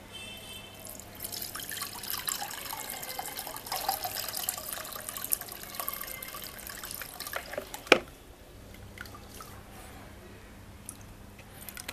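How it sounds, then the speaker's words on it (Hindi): Homemade liquid fertilizer poured into a glass bowl, a soft steady trickle and splash for several seconds, ending with a sharp clink near the close before quieter drips. "शीशे के बॉल में हम इसको डालते हैं"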